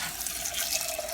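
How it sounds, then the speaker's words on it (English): Water poured from a tap over rolled oats and apples, a steady bright splashing rush with no pauses across the short moment. "and then I'm gonna add some water."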